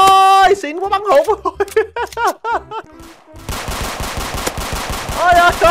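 Rapid automatic gunfire in a Roblox game, a dense burst of repeated shots filling the second half, preceded by excited shouting and talk, with voices continuing over the firing.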